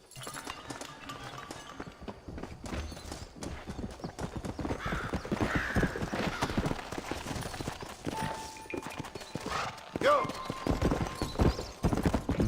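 Hooves clip-clopping and a horse whinnying in Red Dead Redemption on PC. Someone talks over them steadily throughout, the whinny coming up briefly in the middle and again near the end.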